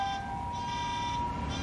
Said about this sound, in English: to a fire alarm begging to be logged off.